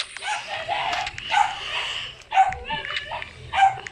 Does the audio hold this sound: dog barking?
yes